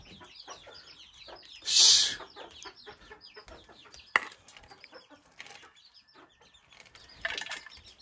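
Chickens cluck and squawk around someone eating, with a louder burst of flapping or squawking early on and scattered clucks over a busy household background.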